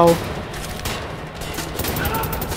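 Gunfire in the shooter game Wolfenstein: The New Order, a dense rattle of shots running steadily through the clip beneath excited talk from a player.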